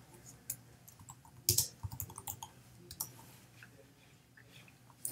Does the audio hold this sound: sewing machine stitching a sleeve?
no